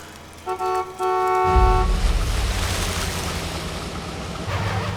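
Two short horn toots from a Jade City company truck arriving at a jade mining site, bright and fairly close, followed by a steady rumbling engine as the truck rolls in.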